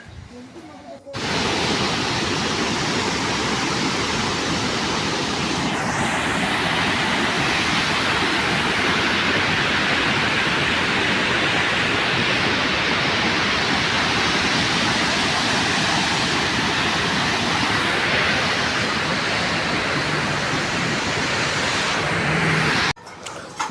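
Water from four open dam gates on the Malaprabha river roars in a loud, steady rush that fills the whole span without a break, dense and close.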